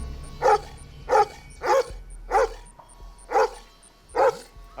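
A dog, a male mutt worked up beside a well, barks in a steady series of six loud, evenly spaced woofs, close by and with no one talking.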